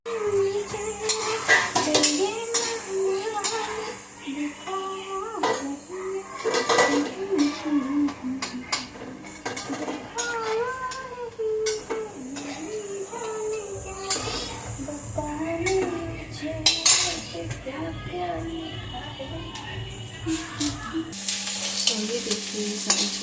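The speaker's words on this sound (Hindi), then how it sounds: "यहाँ वेजिटेबल्स फ्राई हो रही हैं" Vegetables for veg Manchurian fry in a pan, with a continuous sizzle broken by frequent spatula scrapes and clinks against the metal, and a voice talking over parts of it.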